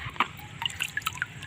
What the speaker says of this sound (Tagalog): Ito may patulo tayong tubig.